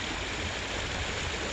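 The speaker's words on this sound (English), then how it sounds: "the water's gushing in from the right side there" Water gushes steadily through a stream at Rotary Park, a dense, continuous rushing roar that stays close and loud throughout, with no voices.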